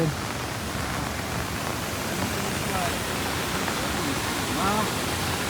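A continuous roar of the Manche waterfall during monsoon rain, broad and steady, with faint voices now and then underneath.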